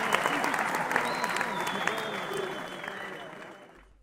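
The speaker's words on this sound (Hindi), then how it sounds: "तो जोरदार तालियों से इस्तकबाल कीजिए डॉक्टर सर अल्लामा मोहम्मद इकबाल साहब का" An audience at an animated Urdu mushaira, a poetry gathering, gives a sustained round of applause that gradually fades out, with a voice talking over the clapping.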